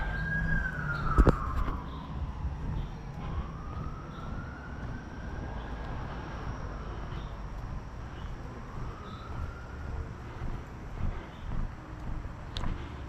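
An ambulance siren wails and sweeps up and down as it pushes through traffic on the wrong side of the road, moderately distant over steady road noise on a long outdoor walk.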